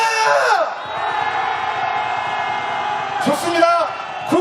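A crowd at a street rally calling for a presidential impeachment lets out a long collective roar, loud and sustained, swelling again near the end with scattered higher shouts.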